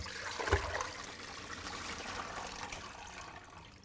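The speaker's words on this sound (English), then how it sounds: "I'll proceed to begin by draining our potatoes very briefly" Cooked sweet potatoes being drained, water pouring and trickling away in a steady wash that opens with a brief splash and slowly fades over a few seconds.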